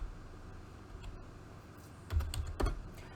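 Faint clicks from a computer keyboard during Python coding, a few scattered key taps and then a short burst of typing near the end, with quiet room noise underneath.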